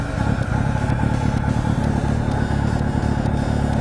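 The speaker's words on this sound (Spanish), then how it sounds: "Para ello accionamos embrague y le damos al botón de arrancar." A Kawasaki motorcycle engine runs loud and close after the starter button is pressed, holding a steady, throaty idle with a rough mechanical clatter throughout.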